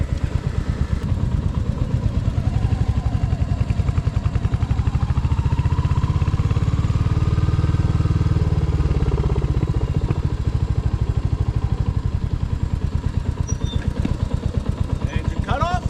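Several motorcycles idle together during a rider training course, a continuous close rumble with rapid mechanical clatter and occasional slight swells in engine note, while people talk in the background.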